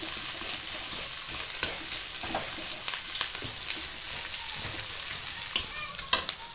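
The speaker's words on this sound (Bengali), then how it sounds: "পেঁয়াজটা আমি হালকা লাল করে ভেজে নেব" Chopped onion with three bay leaves and split cardamom sizzles in hot oil for a bottle-gourd dish, a steady close crackle punctuated by occasional spatula scrapes and pops.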